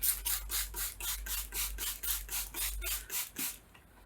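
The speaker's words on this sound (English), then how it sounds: "Spray the paper," A rapid series of soft spray bursts onto sheets of paper being dyed with tea or coffee, about a dozen evenly paced hisses, close and fairly quiet, fading out at the end.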